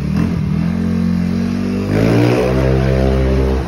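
A Yamaha NMAX 195cc motorcycle engine revs up nearby, with a steady idle that climbs into a louder rising rev partway through.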